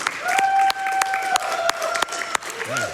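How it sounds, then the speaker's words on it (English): A small late-night crowd at Summer Games Done Quick claps in a scattered burst over a few seconds, sharp individual claps standing out rather than a full roar, with game music and talk underneath. "let's get some applause, late night GDQ enjoyers"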